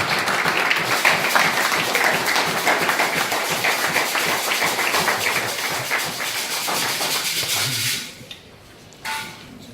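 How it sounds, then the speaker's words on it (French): A church congregation applauds steadily, a loud, even wash of clapping that cuts off abruptly near the end, leaving a brief quieter moment. "Acclamez les Seigneurs, s'il vous plaît."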